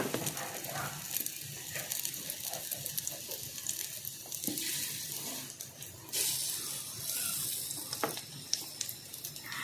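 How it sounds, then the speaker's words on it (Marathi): Drumstick pods frying in shallow oil give a steady, close hiss and crackle that continues throughout, with small pops and brief scraping bursts. "आता आपण वरती थोडंसं तेल घालून घ्यायचं आहे आणि एक एक शेंग बुडून फ्राय करून घ्यायची"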